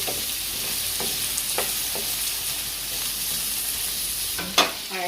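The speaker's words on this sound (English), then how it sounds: "Just saute them a little, just a little bit." Vegetables and fresh pineapple sautéing in a pan for sweet and sour pork, a steady soft sizzle with a few light stirring scrapes and a brief sharper clack near the end.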